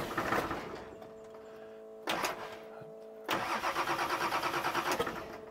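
Car engine cranking on the ignition in several separate bursts, a rapid rhythmic churning from the starter motor that never catches, heard up close and loud with short gaps of quiet between attempts.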